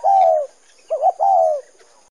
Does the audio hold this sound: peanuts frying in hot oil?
no